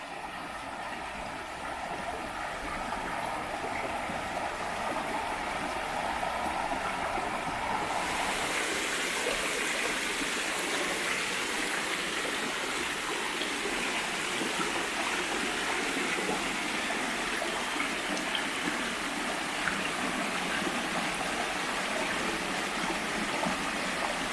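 Steady rushing water of Grassy Creek in Elkin, North Carolina, flows continuously, a broad hiss with a constant churning texture, with no voices.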